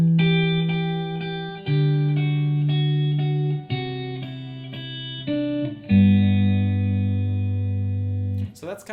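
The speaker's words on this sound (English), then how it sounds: "For reference, that lead line sounds like this." Electric guitar plays a lead line as a run of sustained notes, each held for a second or more with effects and reverb, close and clear, ending with a brief scrape at the end.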